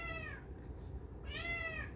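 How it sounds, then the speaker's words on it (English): A pet cat meows twice in the background, the two rising, drawn-out cries separated by a brief pause, over a low steady room hum. "You hear Oreo in the background meowing."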